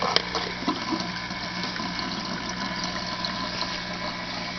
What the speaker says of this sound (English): I got this DIY silencer here, which still makes a little bit of gurgling